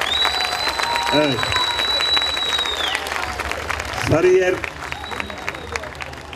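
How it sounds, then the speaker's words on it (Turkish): An audience applauds Black Sea folk dancers at an outdoor event in Sarıyer, with steady clapping running underneath someone speaking briefly and some whistle-like tones. "Önce o gençlerin alın terine şöyle çok kuvvetli bir alkış alalım halk oyuncuları"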